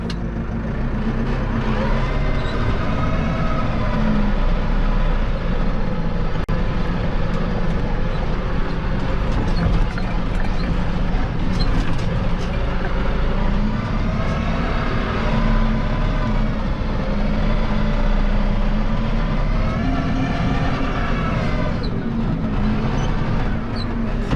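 A New Holland tractor engine labours and revs continuously while plowing snow, a loud, steady droning roar with shifting tones that rise and fall across the whole stretch, close by and with no talk.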